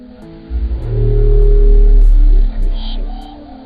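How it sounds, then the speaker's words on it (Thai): The Western Pacific Biotwang, a deep-sea underwater recording attributed to a dwarf minke whale. A loud, deep, droning moan swells and holds for about two seconds, then a short metallic twanging sweep rises and fades over faint ticking background. "พวกเขาตั้งชื่อเสียงนี้ว่า Western Pacific Biotwang จากการที่พบมันในมหาสมุทรแปซิฟิกตะวันตก"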